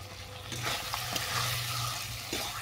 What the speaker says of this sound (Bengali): চিকেনটাকে আমি ভালো করে কষিয়ে নেব